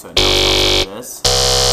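Distorted growl bass from a Serum synth in FL Studio with the oscillator octave set to -2, two loud, buzzy sustained notes separated by a short break in which someone speaks briefly.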